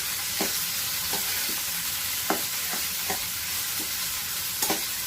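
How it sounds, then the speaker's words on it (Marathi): Onion sautés in a pan with curry leaves and bay leaf for chicken kheema. A steady close sizzle hisses throughout, broken by short scraping stirs every second or so. "आता आपण कांदा टाकला. कांदा आपण परतून घेऊया."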